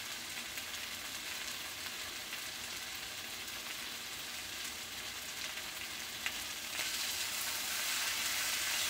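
Garlic sizzles in a pan while steak and shrimp stir-fry, a steady, fairly faint hiss and crackle that swells slightly louder toward the end, with no voices.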